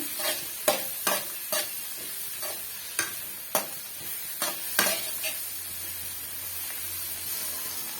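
Ginger garlic paste sizzles in a frying pan while a spoon scrapes and stirs it, giving sharp irregular clacks over a steady frying hiss. The sound is close, with no talking, for an egg pepper fry.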